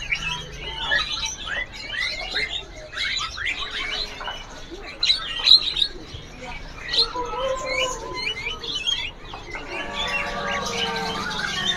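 Songbirds call at a bird seller's stall, including Bali mynas and magpie robins, with overlapping chirps, whistles and squawks and some dove-like cooing, loud and continuous at close range.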